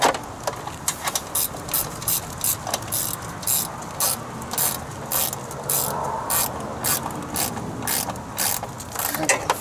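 Bolts being tightened on a Briggs & Stratton Intek single-cylinder engine cover, a steady run of rapid ratchet clicks in repeated bursts, close and fairly loud, with no talking.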